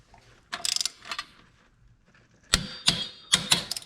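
A torque wrench clicks and ratchets while track bolts on a Can-Am Outlander Max XT are tightened to 35 foot-pounds in a cross pattern, giving short bursts of close, sharp mechanical clicking separated by pauses.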